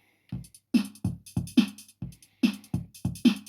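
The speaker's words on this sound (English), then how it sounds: "a loop from the RD6, which is a TR606 kind of clone" A dry analog drum machine loop from a Behringer RD-6, a TR-606 clone, plays alone: punchy kick and snappy hits with ticking hi-hats in a steady, repeating pattern.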